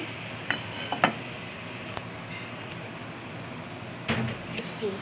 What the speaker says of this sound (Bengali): এখন আমি ডাকনাটা দিয়ে দিচ্ছি